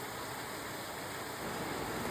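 Rain falls outside a window on the IIT Madras campus in Chennai, a soft, steady, even hiss with no breaks.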